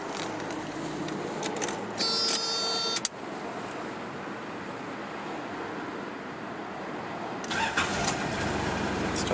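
A 1994 Nissan Mistral turbo diesel SUV engine cranks and catches, then settles into a rumbling idle, with a brief whirring click before and another rise near the end.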